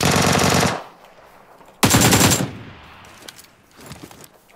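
Automatic gunfire in PUBG Lite, a loud close rapid burst, a second shorter burst after a pause, then faint distant shots.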